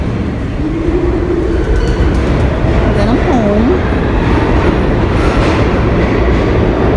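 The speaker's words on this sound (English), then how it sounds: "Hey, train." A New York subway train rumbles continuously through the station with loud, steady wheel and rail noise, brief squealing tones partway through, and a voice speaking briefly over it.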